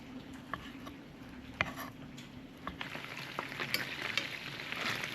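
Venison pieces fry in oil in a pan, giving a steady crackling sizzle scattered with sharp pops and spits, fairly quiet and close, with no talking.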